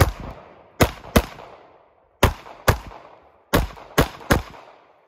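Pistol gunshots fired at a competition shooting stage, two rounds per target from near to far: eight sharp, loud cracks come in quick pairs and a triplet, each ringing briefly, with short pauses between groups.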